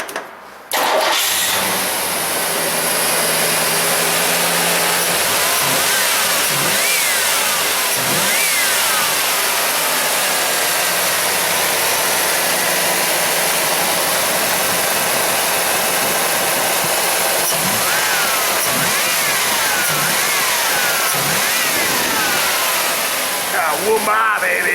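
Firebird Trans Am V8 cranking and firing up, then settling into a loud idle with several rising revs spread through the running, close up, with brief voices in the background.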